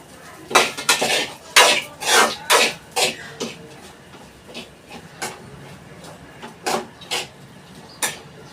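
Rice being mixed with turmeric and salt in a metal vessel, heard as a run of sharp clinks and scrapes from a spoon against the pot, busy at first and then thinning out to a few separate knocks, with no talking.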